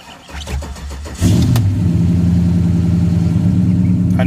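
A Cadillac truck engine cranks for about a second, catches with a loud burst, then settles into a steady, close, rumbling idle that runs to the end.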